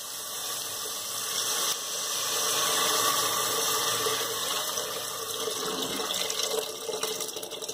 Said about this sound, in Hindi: नमक ऐड करने के बाद हम इसमें पानी ऐड करेंगे।